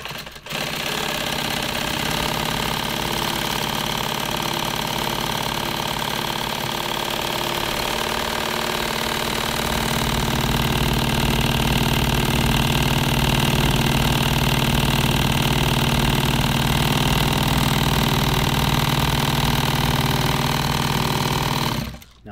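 An industrial sewing machine runs steadily, stitching pink thread into nylon PALS webbing for tactical gear, a loud, even mechanical whir that holds for about twenty seconds before stopping.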